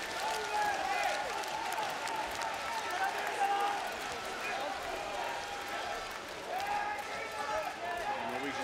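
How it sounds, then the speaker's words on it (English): Handball fans at a European Championship match between Hungary and Norway cheer and applaud in a large arena, a dense, steady roar with sustained clapping that swells slightly near the end. "fans finding something to cheer about"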